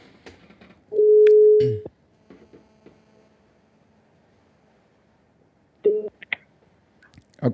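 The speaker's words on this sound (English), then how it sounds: "Let me call this person quickly before I open the phone line." A phone keypad sounds a long steady tone followed later by a few short dialing beeps, fairly clear, before a call to a radio station.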